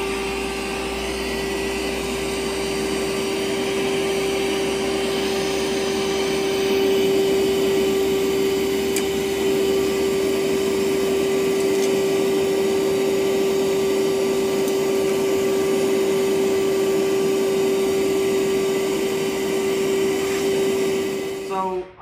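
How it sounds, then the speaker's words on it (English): A small vacuum cleaner sucks loose dirt from an engine's injector holes ahead of new injectors, a steady, loud whine with a constant tone held close throughout. "so I've got my little vacuum cleaner"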